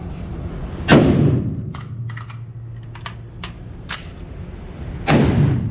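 Rifle shots at a rifle class, two loud, close blasts a few seconds apart with booming tails, and light clicks and handling noises between them.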